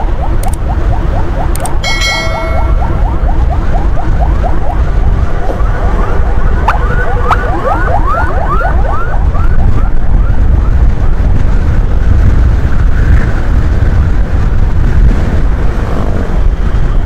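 An ambulance siren wails in a repeating rising-and-falling pattern, fairly loud and continuous against heavy road and engine rumble, with the siren tones fading into the traffic noise later on.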